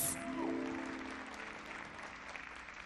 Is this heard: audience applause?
yes